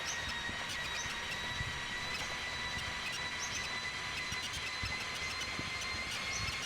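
A train rumbles along in the video game The Long Drive, a steady loud rolling noise with faint high-pitched tones and small repeated clicks, continuous with no talk.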